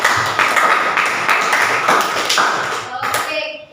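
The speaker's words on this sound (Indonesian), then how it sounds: "Tepuk tangan dulu untuk anak-anak." Classroom applause for schoolchildren during a lesson: a few seconds of scattered, fairly close hand clapping with voices mixed in, thinning out toward the end.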